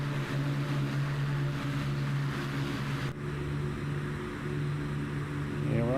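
The four engines of a Lancaster bomber in Microsoft Flight Simulator hum in a steady, close drone with a strong low tone and a brief dip midway.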